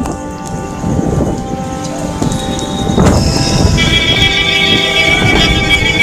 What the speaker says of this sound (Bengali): এই বৃষ্টির জলে যেন গাড়িগুলো নৌকোর মতন চলছে